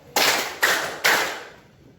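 Three sharp group claps, evenly spaced and loud, from students clapping in unison during a classroom clapping game, each ringing briefly in the room.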